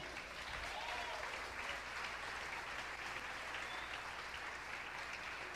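Church congregation applauding during a sermon, a continuous wash of many hands clapping that stays steady and somewhat distant for several seconds.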